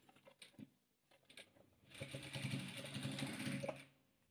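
A sewing machine stitches two patchwork squares together. A few soft clicks and handling noises come first, then a close, steady whirring run of stitching lasts about two seconds before it stops.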